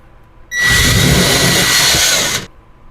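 A power drill drilling into a bathroom drywall whirs loudly for about two seconds, starting and stopping abruptly, with a steady high-pitched motor whine.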